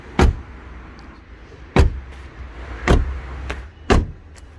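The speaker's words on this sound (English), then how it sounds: "One of my favourite things about the Rover 75 is the door shut sounds." Four Rover 75 car doors slam shut one after another, each a deep, solid thud close by, spaced about a second apart with quiet between.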